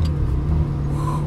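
A Ferrari 360 Modena rolls slowly up to a McDonald's drive-through, its engine a low steady idle-like rumble with a faint rise near the end, close and continuous.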